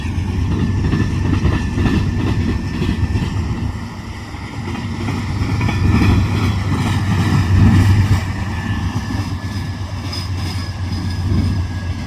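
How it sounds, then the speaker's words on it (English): A rebuilt AC-44 diesel locomotive shoves its section of a freight train through Fostoria, Ohio, a loud continuous engine drone with steady low rumble and rolling railcar noise, no talk. "Not too long after those coil cars, we would see a rebuilt AC-44 shoving its part of the train"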